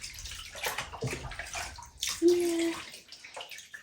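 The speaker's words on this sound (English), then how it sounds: "Are you splashing around?" A baby splashes in bath water, making irregular close slaps and sloshes, with a brief tonal squeal partway through and an adult voice speaking softly.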